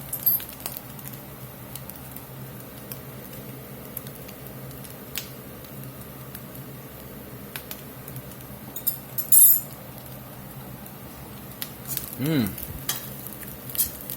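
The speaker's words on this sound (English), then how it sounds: "And all them spices been toasting there about 3 or 4 minutes" Spices for cheese and shredded beef enchiladas toast in a pan with a low, steady sizzle and occasional stirring scrapes and clinks, fairly quiet and close, with no voices.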